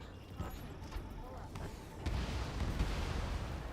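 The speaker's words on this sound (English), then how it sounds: "Gunfire and the roar of jets echoing through the streets." Distant booming and muffled gunfire from the video game Ace Combat 7 rumble under a dense noisy background, with a few sharper bursts standing out.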